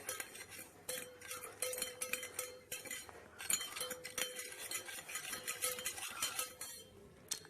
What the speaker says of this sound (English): Now mix it. Mix it properly.